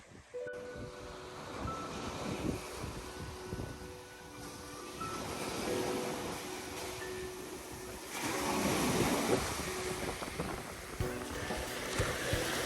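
Small waves break and wash onto a beach at Kusadasi, Turkey, on an overcast day, a soft rolling surf with light wind noise that rises and falls in gentle surges.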